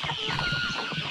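Frightened chickens cluck and squawk in quick overlapping bursts close by, a short flurry of agitated fowl calls without talk.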